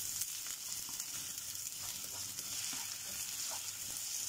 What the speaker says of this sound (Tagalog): Fry natin ng i-fry hanggang sa mag-golden brown.